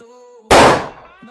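A single loud bang from a bullet bomb firecracker bursts suddenly after a quiet moment, its blast decaying over about half a second with a close, sharp crack.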